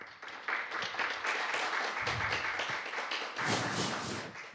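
Audience applause welcoming a speaker at an academic conference session, a moderate, steady patter of clapping that swells slightly toward the end.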